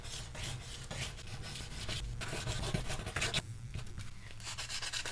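A thumb pick is rubbed back and forth on a flat-lying file, a steady close rasping scrape with irregular strokes and no talking.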